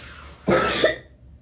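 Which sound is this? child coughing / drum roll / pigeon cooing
child coughing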